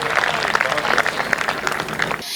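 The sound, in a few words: audience applause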